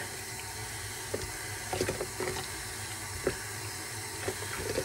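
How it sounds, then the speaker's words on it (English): Water runs steadily from a tap while grit from rotary rock tumbling is rinsed off, a continuous hiss of flow broken by a few louder splashes and clatters, close by with no talking. "I'm washing that out pretty good"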